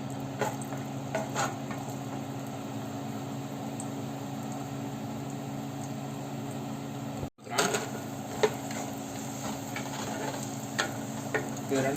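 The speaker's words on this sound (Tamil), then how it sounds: "இதில் நான் இப்போ லைட்டாக கீயை ஆட் பண்ணி முந்திரியும் திராட்சையும் வறுத்து எடுத்துக்க போகிறேன்" Cashews and raisins frying in a little ghee in a pan for bread halwa, with a steady low sizzle and intermittent clicking stirs, a brief dropout midway before the frying and scraping resume.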